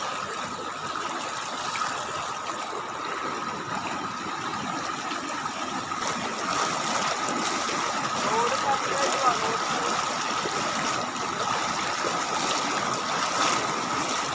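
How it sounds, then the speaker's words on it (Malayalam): Floodwater from heavy rain in Vadakkanchery, Thrissur, overflows a road and carries logs and debris, giving a steady rushing gush throughout, with a faint engine hum and a person talking over it. "റോഡ് കര കവിഞ്ഞൊഴുകാണ് അത്രയ്ക്ക് വെള്ളമായിട്ടുണ്ട്"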